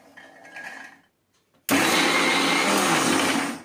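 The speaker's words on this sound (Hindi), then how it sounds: "इन दोनों को अब मैं मिक्सी में पीसूंगी" Mixer grinder grinding green peas and green chillies in a jar, starting abruptly after a short pause and whirring loudly and steadily at close range, following brief faint kitchen handling sounds.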